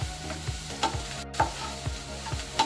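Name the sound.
stirring onions with turmeric and salt using a spoon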